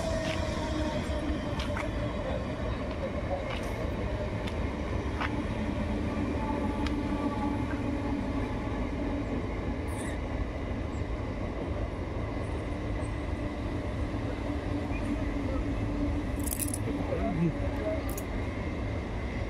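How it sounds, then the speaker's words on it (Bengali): A local train runs along a village railway line on a foggy morning, its steady rumble and rattle filling the scene with occasional wheel squeals and clicks. "এই যে দেখুন গাড়ি যাচ্ছে, লোকাল ট্রেন।"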